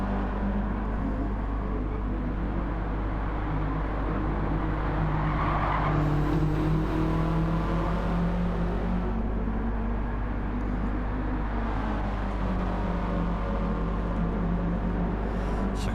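Renault R5 race cars in Gran Turismo 7 buzzing close by, with a continuous revving engine note rising and falling through gear changes, occasional tire squeal and other cars passing.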